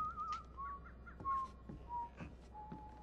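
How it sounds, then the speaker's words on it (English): Whistling in the stealth game Thief, inside a mansion: a series of short, thin tonal whistles, some rising and some level, spread over a few seconds above a quiet room tone, with faint clicks and no speech. "I know that wasn't a bird whistling like that."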